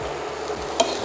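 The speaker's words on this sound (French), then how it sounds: "Allez, je remue." A spoon stirs minestrone with smoked sausages in a pot, a soft close scrape over a faint simmer, with one brief clink.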